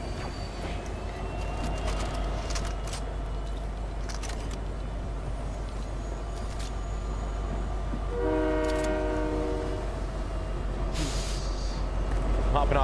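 Train running in Fortnite Chapter 5, a steady rolling rumble throughout with a horn sounding partway through, loud and close.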